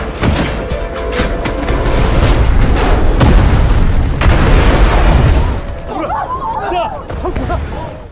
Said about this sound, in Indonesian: Kemudian Gisu melemparkan granat ke dalam lab.